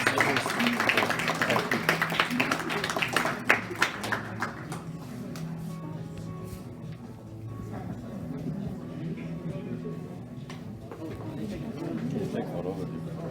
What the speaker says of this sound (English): And round of applause.